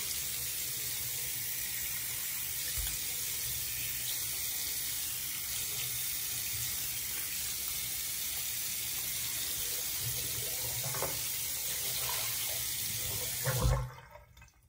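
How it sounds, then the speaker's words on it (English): Tap water runs steadily into a bathroom sink while a face is rinsed, a continuous close gushing stream with faint splashes and a sharper clatter near the end. "I'm gonna go in for another rinse."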